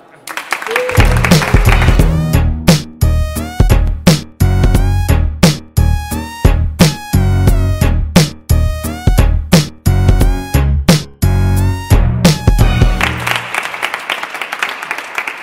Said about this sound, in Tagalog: mag-ingay para kay Looney at Abra